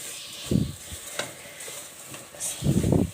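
Chana dal halwa roasting in a pan, with a few soft scraping stirs and a faint sizzle at close range, quiet between strokes.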